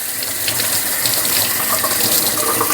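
Zucchini are rinsed under a kitchen tap, giving a steady close hiss of running water that continues without a break.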